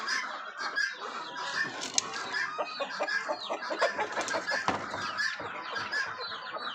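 A hen clucks repeatedly as she gets ready to lay an egg, a close, busy run of rhythmic clucks and cackles with no one talking.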